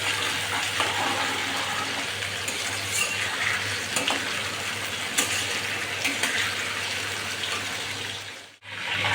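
Prawns frying in hot oil give a steady, dense sizzle that holds evenly throughout, briefly dropping out near the end, with no voices over it.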